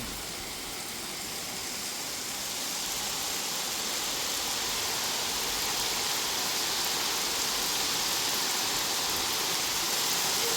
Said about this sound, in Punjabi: ਤੇਜ਼ ਬਾਰਿਸ਼ ਲਗਾਤਾਰ ਰਹੀ ਤਕਰੀਬਨ ਪਿਛਲੇ ਅੱਧੇ ਪੌਣੇ ਘੰਟੇ ਤੋਂ